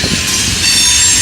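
A Norfolk Southern freight train passes close by, loud and harsh, with high metallic wheel squeal over a heavy rumbling roll in a brief burst.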